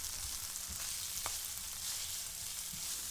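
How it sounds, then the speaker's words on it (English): Onions sauté in hot olive oil in a pan, a soft steady sizzle with faint stirring scrapes, quiet and continuous. "we have heated our olive oil in the pan, and now we're adding our onions. And we're just going to saute them real good."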